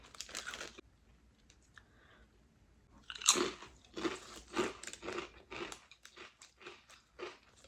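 Chex Mix snack is crunched and chewed close up, with bursts of loud crisp bites followed by irregular chewing crunches, quieter at the start and growing busier, with no talking.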